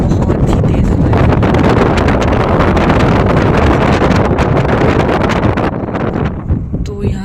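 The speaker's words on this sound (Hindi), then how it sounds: "तो बहुत ही तेज हवा है।" Strong wind buffets the microphone on a forested mountain road near Narkanda, above Shimla, during an ultra run: a loud, continuous blustery roar that eases slightly near the end.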